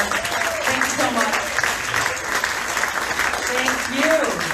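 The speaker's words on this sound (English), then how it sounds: "Please give Steve a round of applause." An audience at a presidential campaign event applauds, a continuous, even wash of many clapping hands at moderate loudness, with faint vocal sounds rising briefly near the start and end.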